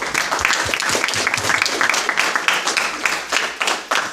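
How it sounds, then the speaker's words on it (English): Audience applause at a hackathon, a dense patter of many hands clapping with a few sharper individual claps standing out, fairly close and steady throughout with no talk over it. "Let's give High Time AI a round of applause"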